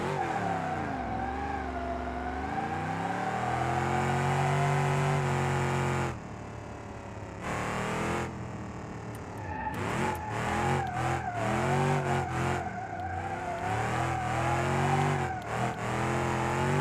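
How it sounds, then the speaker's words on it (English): Car engine in BeamNG.drive strains and revs hard through a second-gear burnout attempt, a loud continuous drone rising and falling with the throttle, with several brief drops and surges as it lacks power; no talking. "it won't do a second gear burnout"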